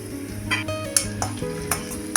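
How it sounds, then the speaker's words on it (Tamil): Onion, ginger and garlic sautéing in a pan for a vegetable breakfast dish, a soft continuous sizzle with a few light clinks and scrapes of a spoon stirring, close up and without speech. "இப்போ இது எல்லாத்தையும் லைட்டாக வதக்கிக்கலாம்."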